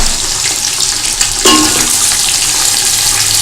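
Egg and chopped cabbage for spicy Chinese fried rice sizzle and hiss steadily in a hot pan, a loud, close frying roar that swells briefly as the cabbage goes in.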